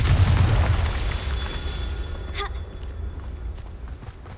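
A Confringo fire spell exploding in Hogwarts Legacy: a deep rumbling boom that fades over a few seconds, followed by a sharp crackling burst and lingering low rumble.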